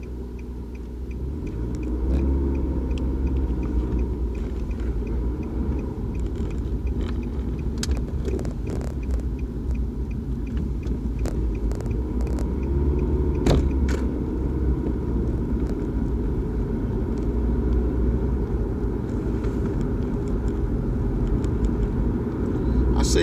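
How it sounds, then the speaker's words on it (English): A Nissan Altima's engine and road noise form a steady, loud low rumble as the car accelerates, with people talking over it throughout. "the car accelerates really well"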